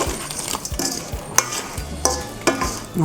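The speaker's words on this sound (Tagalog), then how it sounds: "Mimix lang po natin yung chicken natin. Be sure lang po na lahat ng chicken makoat ng sauce." Crunchy Korean chicken is stirred to coat it in sauce, with repeated scraping and clinking of a utensil against the pan over a soft sizzle, close and with no talk.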